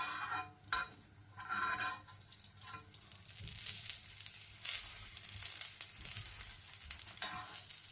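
Sattu-stuffed paratha frying in ghee on a hot tawa, a quiet crackling sizzle with intermittent scraping and rustling as it is handled, low and close.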